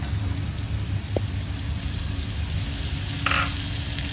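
Cumin seeds crackle in hot oil in a pan as carrots, beans and peas go in to sauté, giving a steady close sizzle with a few brief pops and clinks.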